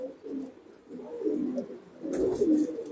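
Female pigeons kept in a loft give soft, low cooing calls that roll on and off in overlapping bursts, close by and moderately loud with no talking.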